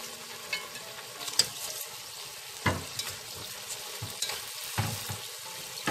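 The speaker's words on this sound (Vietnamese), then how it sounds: "Bây giờ tiếp theo là mình sẽ cho cái bắp cải này vào." Shredded cabbage is added to a pot of vegetarian braised vegetables, with a steady simmering sizzle and a few scattered clinks and stirring thuds close by.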